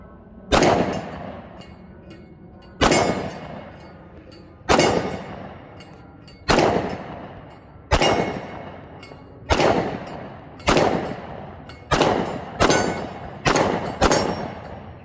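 A 10mm pistol fires full metal jacket flat-point hand loads at about 1050 fps: eleven loud, sharp shots, evenly spaced at first and then quicker toward the end, each with a short ringing decay.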